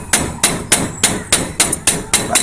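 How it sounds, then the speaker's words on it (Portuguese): A hammer strikes a lock cylinder to re-stake it during locksmith work, with about nine sharp, loud metallic blows landing at a steady, quick rhythm, close up and alone. "Bate com o martelo em cima dele, que ele vai cravar novamente o miolo."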